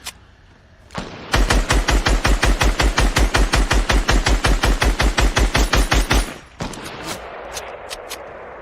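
Rapid automatic gunfire rattles out in a long, loud, evenly spaced burst during a solo-versus-squads battle royale video game match, preceded and followed by quieter ambient game noise.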